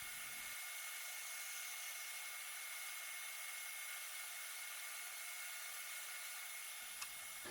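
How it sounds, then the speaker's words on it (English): A power tool cuts a straight piece for a wooden phone stand, a steady high whine holding evenly for about six seconds before stopping, close and loud with no talk. "I'm cutting the straight one here,"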